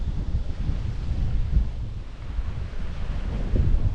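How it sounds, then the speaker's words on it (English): Wind buffeting a microphone aboard a sailboat at sea with 15–20 knot winds and building waves, a steady loud roar with surging wash of surf, no voices. "The wind is about 15-20 at the moment."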